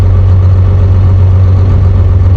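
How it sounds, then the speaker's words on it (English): An LB7 Duramax diesel truck engine at a truck competition gives a loud, steady, deep drone with a throbbing low-end rumble throughout. "Looks like we got an LB7 Duramax."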